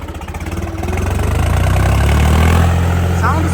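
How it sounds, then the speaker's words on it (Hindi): A running vehicle engine fitted with a turbo, a steady low rumble that builds and swells louder over a few seconds, close by, with a faint higher whistle near the end. "साउंड सुनो टर्बो की।"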